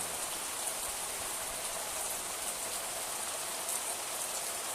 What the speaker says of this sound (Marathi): हा बघा जोरात पाऊस आलेला आहे.